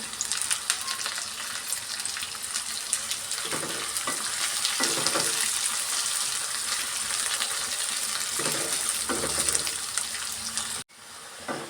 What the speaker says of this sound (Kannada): ಆಯಿಲೆ ಚೆನ್ನಾಗಿ ಫ್ರೈ ಮಾಡ್ಕೊಂಬಿಡೋಣ ಹಾಗೆಯೇ ಒಂದು ಸ್ವಲ್ಪ ಕರಿಬೇವಿನ ಸೊಪ್ಪು ಸೇರಿಸ್ಕೊಳ್ಳೋಣ